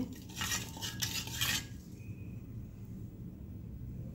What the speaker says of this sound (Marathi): मीठ टाकून द्यायचं आहे. याला हलवून घ्यायचं आहे.